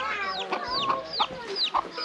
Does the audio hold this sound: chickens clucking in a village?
yes